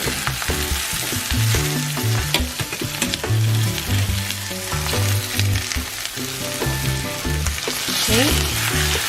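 Ground chicken sizzles and fries steadily in a hot pan for Thai basil chicken, with occasional stirring scrapes over a continuous loud crackle and no talking.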